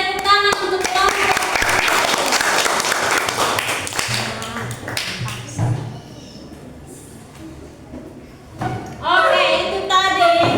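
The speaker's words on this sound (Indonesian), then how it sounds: "tepuk tangan untuk kelompok." A classroom audience claps for a presenting student group, a burst of applause mixed with thumps and voices that fades into quieter talk before a second flurry of clapping near the end.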